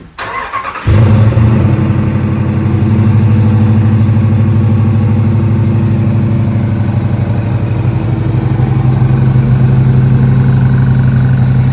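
A 600-horsepower Hemi-swapped Jeep Wrangler cranks and fires up, then settles into a loud, deep, steady idle with a rumbling low drone close by.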